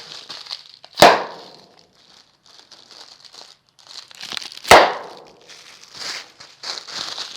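Air-filled plastic packing bags burst with two loud, sharp pops a few seconds apart, each set against nearby crinkling and rustling of plastic, close up with no talk.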